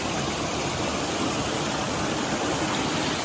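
Heavy water pours down a large waterfall in a constant, full-bodied roar heard up close, unbroken and steady throughout, with no talking.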